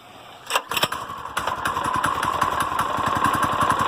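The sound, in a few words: Manco small engine idling after cold start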